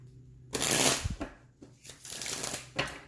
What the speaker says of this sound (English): If the shuffling's loud, please adjust your volume accordingly.